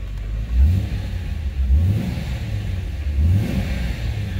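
A 1999 Jeep Cherokee XJ engine revs three times in close succession, each rising pull climbing then dropping back to a steady rumble.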